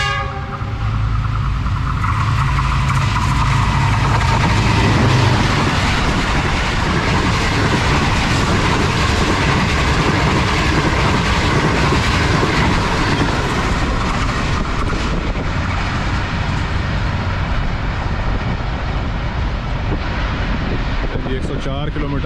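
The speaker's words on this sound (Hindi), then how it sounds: "तकरीबन 103 किलोमीटर फी घंटा की रफ्तार से 7 अप तेज़गाम आ रही है।" The 7 Up Tezgam express, running from Karachi to Rawalpindi, roars through a railway station at about 103 km/h, a loud, sustained rumble and rattle of wagons with a horn blast near the start.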